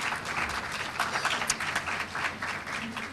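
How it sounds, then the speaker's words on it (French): An audience at a summer camp closing ceremony claps in a dense, steady burst of applause, many hands together, moderately loud and unbroken for a few seconds. "sous vos applaudissements s'il vous plaît."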